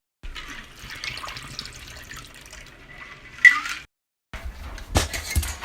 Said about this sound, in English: Put some ice in your glasses and pour it over.